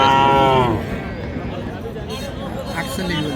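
A cow at a cattle market selling dairy cows with calves gives a loud, close moo lasting under a second, followed by crowd babble and people talking nearby.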